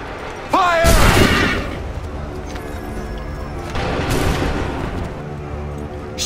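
A musket volley in Assassin's Creed 3 during an American Revolution battle cracks out as a loud burst just after a shouted command. Battle noise carries on, and a second swell of gunfire comes a few seconds later.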